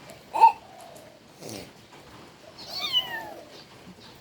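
A cat stuck inside a toy meows several times, close and clear, in short separate cries with quiet gaps between them.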